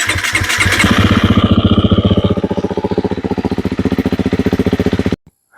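A KTM 350 SX-F or 250 SX-F dirt bike engine fires up after an oil change, then runs with a loud, rapid, even pulsing idle before cutting off abruptly near the end.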